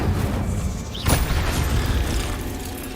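A burst of magical fire from the Incendio spell in the Hogwarts Legacy video game, a sudden whooshing boom that flares up and then rumbles away beneath a steady bed of game ambience.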